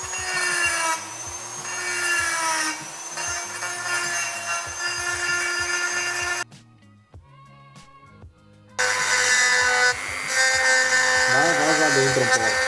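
A rotary cutter grinds and rasps steadily against a Piaggio Ciao 65cc engine block, close and loud, pausing briefly mid-clip before resuming, with someone speaking over the work.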